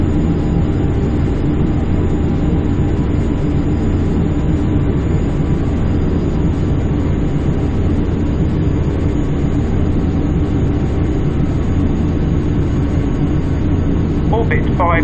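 Jet engine of an aircraft in Microsoft Flight Simulator X at reduced thrust, about 50% N1: a steady, loud, even drone with a constant high whine throughout.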